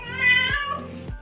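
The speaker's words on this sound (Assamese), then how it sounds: "এইফালে মেকুৰী চিঞৰি আছে দেখিছেনে" A domestic cat meowing indoors at home, two close, clear drawn-out cries in quick succession, the first longer and rising, the second shorter.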